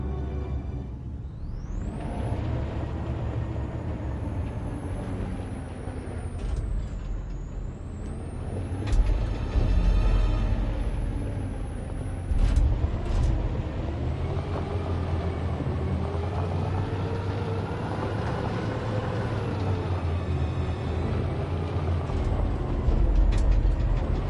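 A truck engine rumbles steadily in the Detroit: Become Human video game, with a rising whine at the start and sharp hissing air-brake bursts cutting in at intervals over a long, continuous drone.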